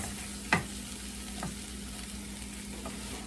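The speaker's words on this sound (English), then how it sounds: "we're gonna start cooking those in a little bit of this bacon grease" Potatoes and carrots frying in bacon grease in a pot, a quiet steady sizzle with a sharp stirring scrape and a couple of softer stirs.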